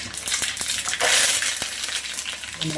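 Mustard, cumin and sesame seeds crackle and pop sharply in hot oil, tempering for dhokla, with a burst of loud sizzling partway through, close up and continuous.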